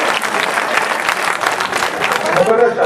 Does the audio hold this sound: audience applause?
yes